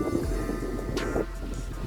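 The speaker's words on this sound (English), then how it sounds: "As you can probably hear from the wind sound that it is windy again." Wind blows through a garden and buffets the microphone with a low, steady rumble that surges slightly for a moment in a brief, continuous stretch.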